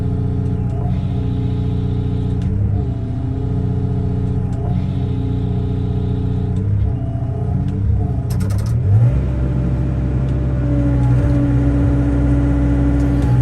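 Rotobec Limb Reaper forestry attachment under hydraulic power at full throttle, a loud continuous engine drone with a steady rumble and mechanical clunks, shifting pitch partway through, no talking.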